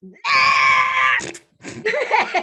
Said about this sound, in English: you hear a blood, curdling scream